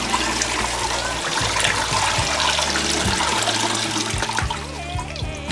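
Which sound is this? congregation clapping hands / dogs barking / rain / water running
water running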